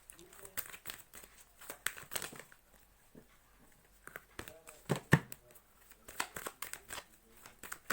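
Tarot cards are shuffled and drawn with crisp, quick papery riffles and flicks in uneven bursts, nearby and fairly quiet, with no talking.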